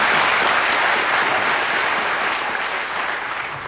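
A crowd claps loudly and continuously, a dense burst of applause that slowly fades toward the end.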